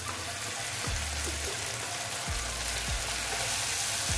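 Koi fish fries in hot oil with mustard-poppy paste, a dense steady sizzle and crackle while it is stirred, with low scraping thumps from the utensil against the pan.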